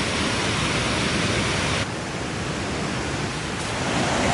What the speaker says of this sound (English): We've got maybe about 3 different waterfalls, very small ones at the lower Berks, but still a waterfall